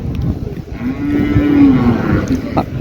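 A buffalo at a busy cattle market gives a single loud, close, drawn-out low moo over constant crowd and market noise.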